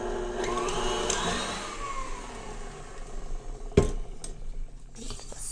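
An electric mixer whirs steadily as it beats an egg into keto thin mint cookie batter, a close motor drone that wavers in pitch, with a sharp knock partway through.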